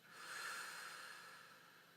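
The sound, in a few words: exhaling breath during guided breathing exercise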